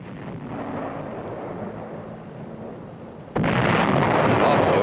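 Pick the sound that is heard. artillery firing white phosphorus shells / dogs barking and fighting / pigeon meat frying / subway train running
artillery firing white phosphorus shells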